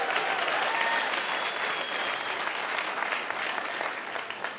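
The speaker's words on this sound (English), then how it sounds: "Just another round of applause for those folks." A conference audience applauds the speakers with a dense, sustained clapping that fades slightly toward the end, fairly close and without voices.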